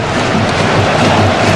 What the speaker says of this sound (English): that's encouraged their supporters, as you can hear